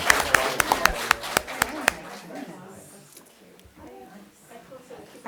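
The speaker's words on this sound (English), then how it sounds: "A round of applause here." A small group at a school board of education meeting claps briefly, with about a dozen crisp, close claps in the first two seconds, then quiet talking takes over.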